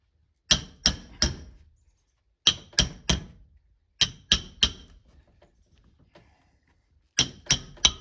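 Log cabin chinking struck in with a steel tool, sharp metallic taps in quick groups of three, close and loud with short ringing decays and pauses between groups.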